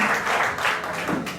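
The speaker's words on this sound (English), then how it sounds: "a big round of applause for Group 3" Audience applause for Group 3 after a venture proposal presentation at a 2018 BIARI Philippines session; moderately loud clapping from a small room in uneven waves, with no talk over it.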